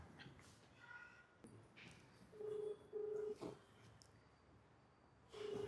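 Phone keypad tones from dialing a number: three short, steady beeps spaced apart, clear over a quiet, faintly noisy indoor background.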